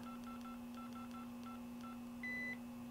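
A cell phone keypad beeps out a phone number: about ten short, evenly spaced key tones in quick succession, then one longer, higher confirmation tone, close and clear over a steady electrical hum.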